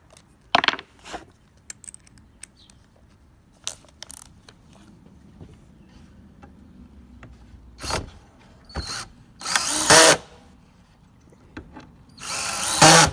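A power drill whirs in several short bursts, the later ones longer and rougher as the clutch slips and ratchets, with quiet pauses between.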